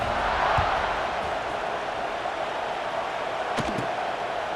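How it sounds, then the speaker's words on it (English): A video game stadium crowd in EA Sports College Football 26 buzzes after a score, a dense, steady roar of many voices filling the space, with a brief thud or two partway through. "this crowd is buzzing after that last score"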